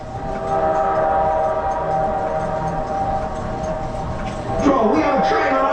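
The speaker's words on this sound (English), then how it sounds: "We have a train on our track and it's coming right at us." A simulated train bears down on riders on the Earthquake ride in Gatlinburg, Tennessee. A loud, steady rumble carries sustained horn tones and swells sharply near the end.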